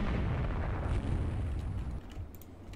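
A torpedo hit explosion in the naval strategy game Rule the Waves 2, a deep, heavy rumbling boom that rolls on for a couple of seconds before thinning into lighter crackles.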